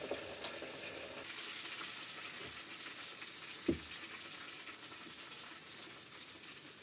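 Steaks fry in a pan inside a dugout shelter in a forest, giving a faint, steady sizzle with a couple of soft clinks.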